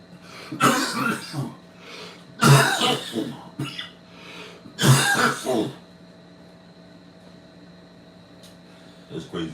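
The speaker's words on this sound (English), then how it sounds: "you got a cough" A person coughs and clears their throat in three harsh, close bursts, with quiet room hum in between and a short faint sound near the end.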